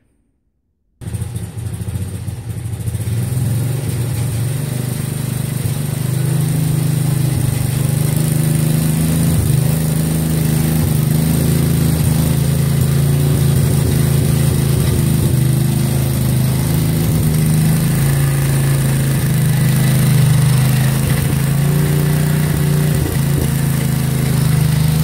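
A 1963 MTD Lawn Flite riding mower engine catches after a brief silence and runs loudly for a long stretch, holding a steady, throbbing idle with no talking.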